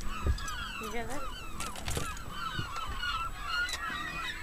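Seagulls give harsh, squawking cries while swooping on a caught muskie near a fishing boat, several overlapping calls repeating loudly and close over wind and water noise.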